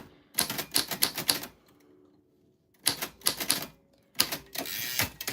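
Bursts of rapid typewriter keystrokes with carriage clunks, three clusters separated by short pauses, close and crisp with no talking.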